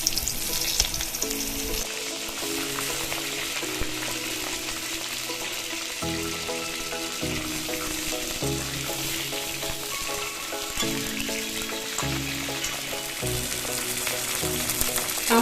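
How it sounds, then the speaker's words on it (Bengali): Whole pointed gourds (potol) fry in hot oil for an egg and potol dalna, a steady close sizzle with occasional stirring scrapes throughout. "প্রথমে আমি পটলগুলোকে গোটা গোটা ভেজে নিচ্ছি।"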